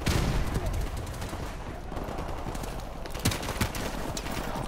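Gunfire in Modern Warfare Remastered: sharp rapid shots in bursts, dense at first and then scattered, with several louder cracks standing out over game ambience.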